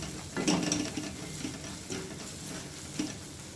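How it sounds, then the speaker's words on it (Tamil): Coriander powder and garam masala being stirred in a frying pan, with soft scraping strokes and light sizzling at a low, steady level and a few brighter clinks of the utensil against the pan. "தனியாத்தூள், கொஞ்சம் கரம் மசாலா, இதெல்லாம் சேர்த்து அப்படியே நல்லா மிக்ஸ் பண்ணிக்கலாம்."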